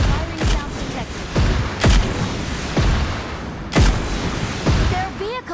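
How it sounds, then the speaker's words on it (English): Gunfire in PUBG Mobile Payload mode, a series of loud, sharp booming shots spaced roughly a second apart with a reverberant tail, alongside vehicle noise and some talk. "Firing sounds detected."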